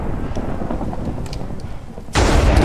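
A lightning strike cracks in a Minecraft world, landing just outside a house during a Blood Moon night: a sudden loud broadband burst near the end, after a low rumbling stretch.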